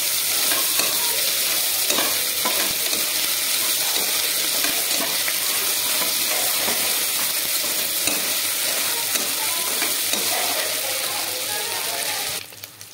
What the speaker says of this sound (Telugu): 1 స్పూన్ అల్లం వెల్లుల్లి పేస్ట్ అయితే యాడ్ చేసుకొని పచ్చివాసన పోయే వరకు బాగా ఫ్రై చేసుకోవాలి